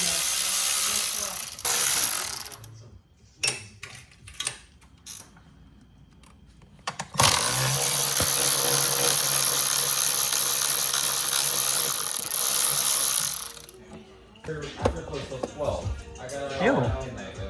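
A hand ratchet clicking as it loosens the outer plenum bolts on a Nissan 350Z, bursts of close mechanical ratcheting separated by pauses, with people talking in between.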